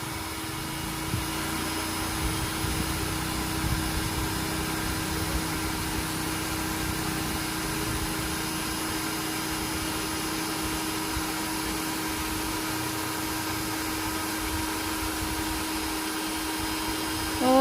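Steady electric air pump droning for the whole stretch, inflating a large item from the top, with a constant mechanical hum and faint whine, close and uninterrupted.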